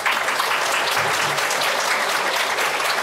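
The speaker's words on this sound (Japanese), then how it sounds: "皆様どうぞ拍手でお送りください。" Audience applause at the close of a talk event at a museum exhibition program in Japan, steady dense clapping from a crowd filling the whole span at an even, loud level.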